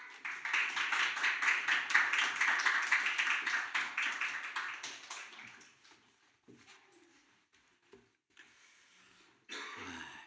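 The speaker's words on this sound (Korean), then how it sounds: "여러분 힘내시라고 큰 박수로 환영하시겠습니다" A church congregation at a Sunday service claps in sustained applause that fades out after several seconds, followed by a few scattered soft noises.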